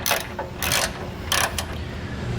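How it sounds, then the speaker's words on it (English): A torque wrench ratchets on a Curt front-mount trailer hitch on a 2019 Chevrolet, a few sharp clicking bursts of the pawl close by over a steady background hum. "So now we're just going to go back and torque down our hardware."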